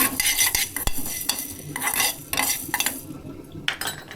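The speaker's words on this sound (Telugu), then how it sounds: "ఫస్ట్ అయితే మనం ధనియాలు ఫ్రై చేసుకుందాము" Coriander seeds frying dry in a pan for chicken curry masala, with repeated scraping and stirring of a spatula against the metal and light crackling beneath, close and fairly quiet, with no voices.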